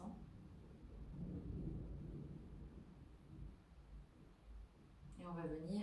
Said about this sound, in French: Il y a un orage en même temps chez nous.